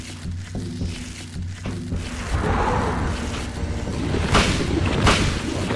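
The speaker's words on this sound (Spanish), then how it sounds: "solo le puedo dar dos disparos" Booming shotgun blasts in Silent Hill, a couple of heavy bursts amid a busy, cluttered mix of game noise, loud and close.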